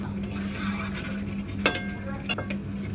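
Large pieces of chicken stir-fried with potato in a pan with little oil, soft continuous sizzling under a few sharp clinks and scrapes of a utensil against the pan.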